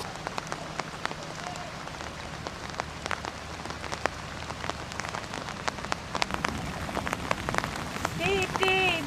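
Steady rain pattering on surfaces nearby, with scattered sharp drops and splashes throughout, and a brief voice near the end.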